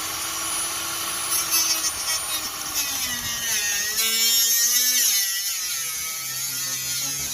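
Power saw cutting through the front bumper and valence of a 2004 Ford F250, a continuous close whining grind that rises and falls in pitch as the blade moves across, with no talking.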